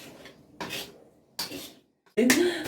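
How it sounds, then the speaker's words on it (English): A knife scrapes sticky homemade fondant icing off a work surface in four short, rasping strokes separated by brief pauses, close and moderately loud. "If it's sticking a lot, you could just use knife to scrape it off."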